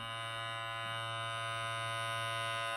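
Powertec TR-3200 hair and beard clipper running, a steady close electric buzz with a constant hum that holds evenly throughout, no talking.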